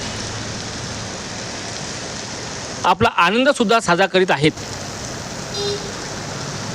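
Steady unseasonal rain falls in a constant hiss throughout a city afternoon, with a person speaking briefly over it in the middle.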